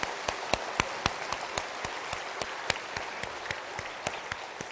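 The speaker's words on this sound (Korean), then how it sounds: "우리 담임 목사님 좀 더 힘내시라고 우리 담임 목사님께 박수 한번 해드리겠습니다" A church congregation at a Korean Sunday evening service claps together in a fairly steady, rhythmic beat of sharp, distinct hand claps, moderately loud, continuing throughout.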